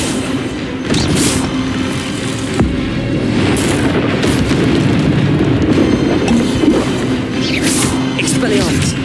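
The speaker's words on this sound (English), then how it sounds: "Accio!" A spell cast in Hogwarts Legacy during a duel, with sharp magical bursts and booming impacts rising over a dense, continuous wash of game combat noise at close range.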